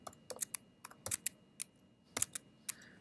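Typing on a computer keyboard at a Mac OS X terminal, a quiet, close run of irregular light key clicks with short pauses.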